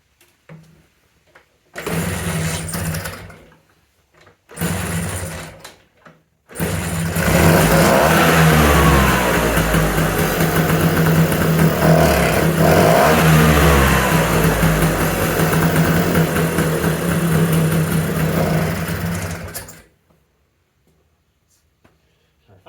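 1979 Vespa P200E scooter with a Piaggio engine, under carburettor adjustment, starts in two short bursts that die out, then fires and runs with a steady buzzing idle and a few revs for about thirteen seconds before cutting off, close up.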